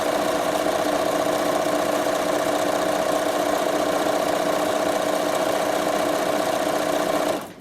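A Bernina sewing machine stitches fancy decorative stitches, a steady loud mechanical hum and whir running without pause before cutting off at the very end.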